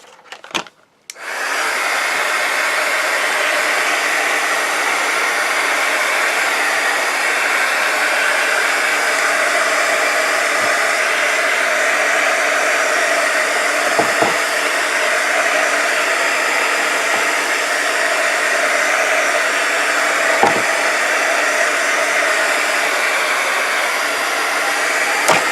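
A heat tool drying Distress Oxide ink on glossy paper: a steady, loud blowing roar begins after a brief start-up and runs unbroken to the end, with only faint small knocks and no talk.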